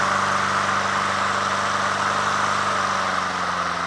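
A Honda HRT216 Harmony II push lawn mower engine runs steadily at a close, even, droning idle with a constant mechanical hum and no talk.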